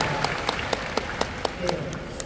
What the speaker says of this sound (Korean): 박수 일단 드리겠습니다